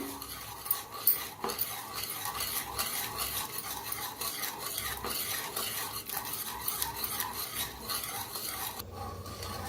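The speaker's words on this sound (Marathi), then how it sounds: "छान असं मिक्स करूया, गाठी अजिबात नको आहे त्या" Gram flour being stirred into cooked dill greens in a pan, soft continuous scraping and tapping of a spoon against the vessel, fairly quiet and close, with no voices.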